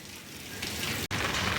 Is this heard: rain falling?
yes